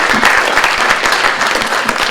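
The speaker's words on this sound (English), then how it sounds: "can we give these young people a round of applause for being out here all day?" A crowd at a youth arts forum applauds the young people, a loud, dense burst of clapping from many hands that holds steady throughout.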